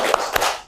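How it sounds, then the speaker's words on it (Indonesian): Students in an Indonesian microteaching classroom performing the 'tepuk semangat' spirit clap, a quick burst of near, bright handclaps with two sharper accents, fading out after under a second. "Tepuk semangat."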